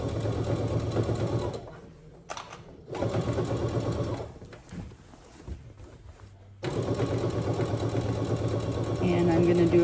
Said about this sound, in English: And I'm gonna do a backstitch again.